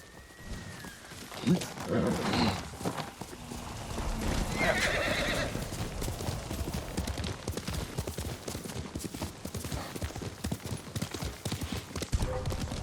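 Rapid clip-clop of galloping hooves with a sharp horse whinny near the start, then the hoofbeats continue steadily at a quick rhythm, in the video game Ghost of Tsushima.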